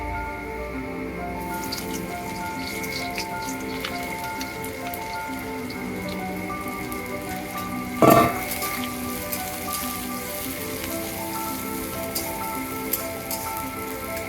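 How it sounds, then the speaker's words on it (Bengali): Onion pieces hit hot oil already seasoned with tempering spices, setting off a steady, dense crackling sizzle throughout, with a brief louder burst of spatter midway, close and alone without talk. "পেঁয়াজের টুকরোগুলো দিয়ে দিচ্ছি।"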